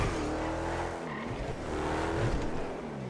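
A loud, steady video game car engine drone with shifting pitch, like a vehicle revving and cruising, with a slight whine rising briefly.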